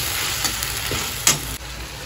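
Soybeans frying in a pan give a continuous close hiss and sizzle, broken by a few sharp spatters and a brief scrape of stirring near the end, with no talking.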